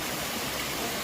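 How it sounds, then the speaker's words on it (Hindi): Steady broadband rush of a waterfall along the mountain trek from Gaurikund to Kedarnath, continuous and loud, with no voices over it. "तो दोस्तों नीचे से चलने के बाद ये सेकंड झरना"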